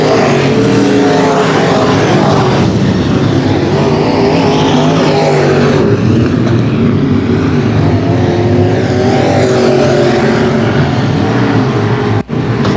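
Race cars at 281 Speedway roar continuously as a pack laps the oval, engine notes swelling and shifting as cars pass, loud and close throughout.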